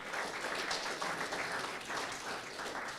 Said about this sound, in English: can I ask you for a round of applause for a really splendid panel?